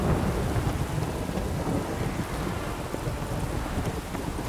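Steady, dense rainfall with a continuous low rumble of thunder from weather effects in The Witcher 3, a constant loud wash with no pauses and no voices over it.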